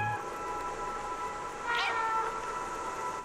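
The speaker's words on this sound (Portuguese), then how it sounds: "Aperte o bola para miar." A cat character in the video game Stray lets out a single short meow partway through, heard over a soft continuous game ambience.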